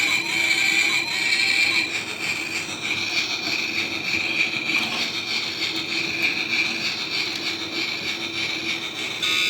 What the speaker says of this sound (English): It's a pullback train, and if you press this button right here,